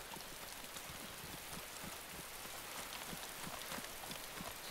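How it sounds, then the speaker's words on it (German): Heavy rain in the survival video game DayZ, a dense constant patter of drops hitting surfaces, steady and fairly faint, with no talk over it. "Der Regen ist echt scheiße, es hammer laut wieder."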